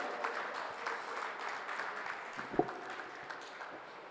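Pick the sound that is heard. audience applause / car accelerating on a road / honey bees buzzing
audience applause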